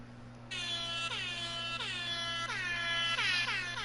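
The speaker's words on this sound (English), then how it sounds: "I might have an air horn machine. Oh, it works." A loud air horn machine blares in repeated short blasts, each with a falling pitch sweep, one after another for several seconds over a steady low hum.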